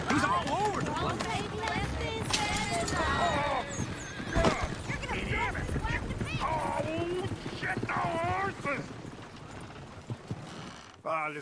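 Horse in the video game Red Dead Redemption 2 neighs and whinnies repeatedly while hooves clip-clop nearby, with people talking over much of the scene.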